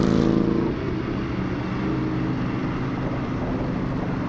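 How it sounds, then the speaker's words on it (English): An Indian Scout Rogue motorcycle exhaust rumbles loudly and steadily close by, with a deep throbbing drone after a brief rev at the start. "That exhaust sounds great."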